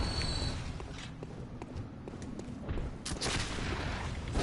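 Enemy gunfire in the video game Bloodborne, several sharp shots and cracks, some close together, over dense, noisy game ambience.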